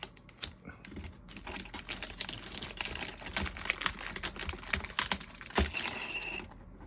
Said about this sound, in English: That was a little bit more like what I would call a peel.